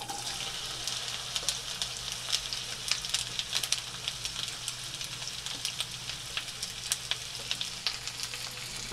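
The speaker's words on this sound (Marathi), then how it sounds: "तेल गरम झालं का आपल्याला भेंडी टाकून घ्यायचे।" Okra for a stuffed bhindi dish sizzles in hot oil in a pan, a steady bright crackle with scattered sharp pops and spits throughout, close and continuous with no talking.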